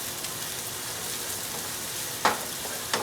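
Bacon sizzling in a pan alongside Brussels sprouts gives a continuous close frying hiss with a couple of brief sharper spatters near the end.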